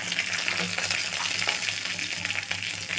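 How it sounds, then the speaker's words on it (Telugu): Cumin and cashew pieces fry in hot oil as a tempering for coconut rice, giving a steady, close sizzle with faint crackles throughout and no voices. "తాలింపు మంచిగా వేగాలి దీంట్లోనే జీడిపప్పు పలుకులు కంపల్సరీగా వేసుకోండి"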